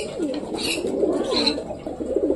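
Pet pigeons coo softly in a steady, rolling rhythm nearby, with repeated low throaty calls running through the whole short stretch and no one talking.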